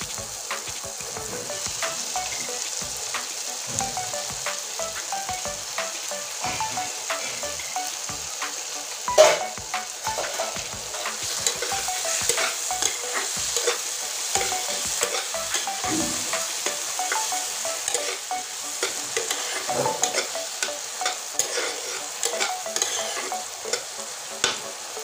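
Tomato and onion, already half browned, frying in fish oil in a pan, stirred steadily. A continuous sizzle runs throughout with frequent scraping stir sounds and one sharp clatter partway through. No one talks.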